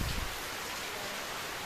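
Steady rain pouring outside near a rooftop, a dense, even hiss of falling water holding at constant level throughout, with no voices.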